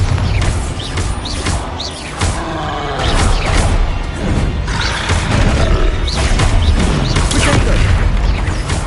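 Bombarda spell blasts in Hogwarts Legacy combat: loud, dense booms and crashes follow one another almost without pause, over a constant roar of battle noise, with a voice calling out.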